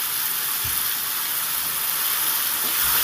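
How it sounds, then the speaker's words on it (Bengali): Chopped tomato fries in a pan with a dense, steady sizzling hiss, close and unbroken, with a few faint low knocks underneath. "টমেটোটা দিয়ে সুন্দর করে একটু ভেজে নেব"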